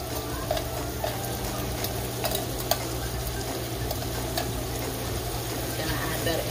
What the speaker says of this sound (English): then you're just gonna add it into your pot